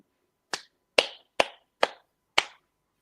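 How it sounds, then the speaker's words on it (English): Five slow, sparse hand claps in a quiet room, crisp and close, evenly spaced about half a second apart in a restrained, polite rhythm. "I was just doing the polite golf clap."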